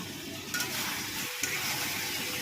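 Chopped tomato and mixed whole spices for mutton masala sizzle in a pan as they are stirred, a soft continuous frying hiss with a couple of light utensil taps, close and quiet.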